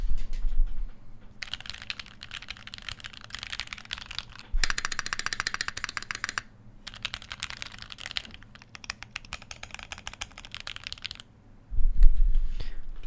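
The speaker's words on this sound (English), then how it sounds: "I threw some Gateron browns in here, and just for you keyboard enthusiasts, here's a quick sound test" Typing on a Keychron mechanical keyboard fitted with Gateron brown switches: close, rapid bursts of clacking keystrokes in several runs separated by short pauses, with no talking during the typing.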